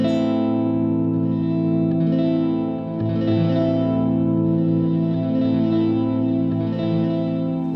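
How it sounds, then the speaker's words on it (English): A sustained chord plays through the giant reverb setting of a SOMA COSMOS effects unit, washing into a dense, shimmering, continuous tone with slow swells and a long smeared tail, steady and alone. "I might play a chord in and see what we get with the giant reverb."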